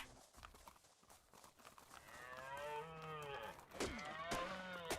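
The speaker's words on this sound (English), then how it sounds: "You're just mooing." Cattle mooing in a dinosaur video game, a long drawn-out bellow followed by further lowing calls, moderately loud over faint background game noise.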